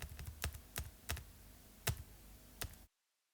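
Computer keyboard keys and a mouse button click sharply while a Microsoft Excel spreadsheet is operated, about six crisp separate taps spread over three seconds, close and clear, then silence.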